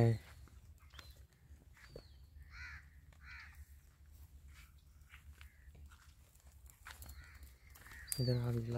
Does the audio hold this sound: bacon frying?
no